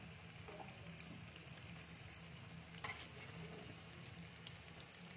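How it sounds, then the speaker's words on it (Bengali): Pitha frying in oil in a pan makes a faint, steady bubbling sizzle, with a soft clink or scrape as the cakes are turned; no one speaks. "এক পিঠটা ভাজা হয়ে গেছে, আমি একটু উল্টে নিচ্ছি, আস্তে আস্তে উল্টাচ্ছি আমি"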